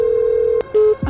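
A phone call being placed, a steady held dialing tone that breaks off, resumes briefly and then stops, followed by a short low thump, clear and close.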